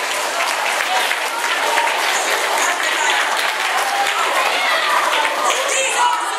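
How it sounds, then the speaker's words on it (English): An audience at a science demonstration gives a round of applause, a steady wash of clapping from many hands, fairly close and sustained throughout without letting up. "Thank you for the scattered applause."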